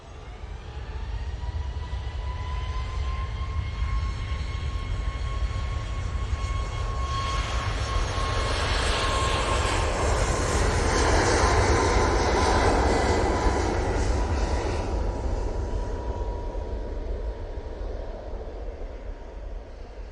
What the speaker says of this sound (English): Ryanair is lined up and ready to go off to Copenhagen